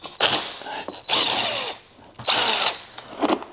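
A power tool whines in three loud bursts with short pauses, backing bolts out of the engine of a rusty weed trimmer that won't run; ratcheting clicks trail off at the end.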